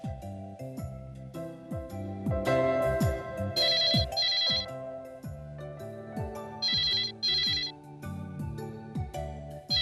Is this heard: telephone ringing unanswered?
yes